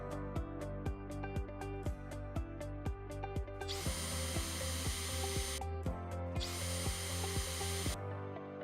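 A power drill bores small 3mm holes into a door dam threshold seal to fix a joiner plate, with rapid rhythmic ratcheting bursts followed by two long, loud, whining drilling runs, close by and alone.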